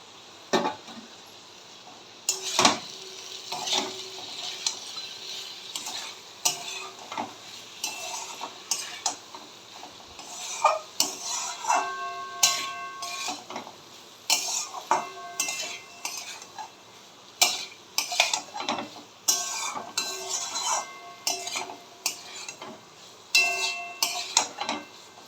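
Soybean chunks and chopped capsicum sauté in a pan for a vegetarian soybean curry, with frequent metallic clinks and scrapes of a stirring spoon over a soft background sizzle, irregular but continuous throughout, with no voices.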